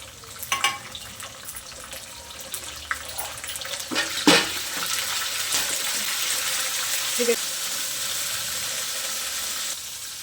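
Dried red chillies and tomato frying in hot oil for radish chutney, a steady bright sizzle rising after a few sharp clatters as they drop into the pan, close and fairly loud, cutting off near the end.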